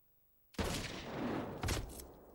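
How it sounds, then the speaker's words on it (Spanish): A single sharp rifle gunshot with a reduced powder charge cracks out loudly, followed by a sustained rumbling echo and a second burst of blast noise a second later. "Reduciendo la cantidad de pólvora del cartucho, James simula ese disparo."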